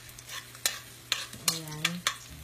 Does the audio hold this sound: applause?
no